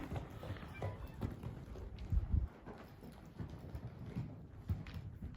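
Hoofbeats of an American Quarter Horse gelding cantering under saddle, soft rhythmic thuds close by with outdoor background noise, one heavier cluster of hits midway.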